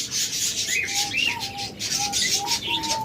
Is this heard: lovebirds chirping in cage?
yes